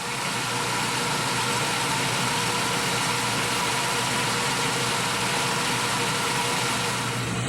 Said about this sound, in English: now this one we've got to go down to a diameter of 5/8 of an inch